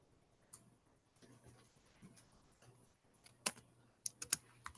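Typing on a computer keyboard in a quiet room: faint, irregular key clicks with a few sharper taps near the end, heard up close and alone with no talk.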